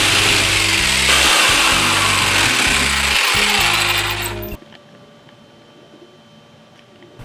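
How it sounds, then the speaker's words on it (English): A blade dragging through sheet material along a metal straight edge, giving loud, rough, stuttering rasps and chattering judders for several seconds before stopping abruptly, followed by quiet room tone with faint small knocks. "I began to cut"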